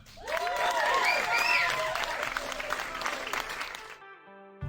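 Audience applause for a comedian at the Kam Comedy Festival 2020, a loud sustained crowd roar of clapping with cheers that swells early, then tapers before cutting off near the end.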